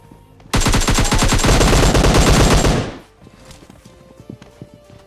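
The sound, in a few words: gunfire in a video game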